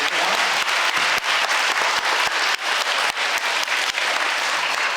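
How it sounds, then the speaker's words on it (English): Sustained applause fills the room for a fourth grade band at a school spring concert, dense continuous clapping from a large audience with no break. "Let's have one more round of applause for them."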